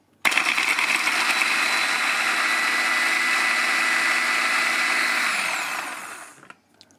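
A Silvercrest SSMS 600W hand blender runs on turbo chopping shallots: one steady, loud, high-pitched motor whine starts abruptly, holds for about six seconds, then spins down to silence.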